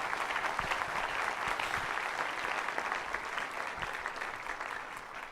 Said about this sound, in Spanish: Una vez más, un fuerte aplauso de recibimiento,